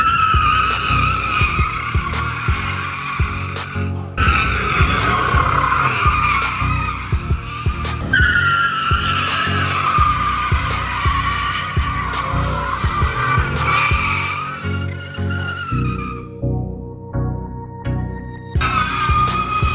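A salvage Ford F150 with a 6-inch lift doing a burnout, its tires shrieking in a loud sustained squeal over a revving engine, pitch wavering as the wheels spin, before the screech cuts off and the engine idles and revs.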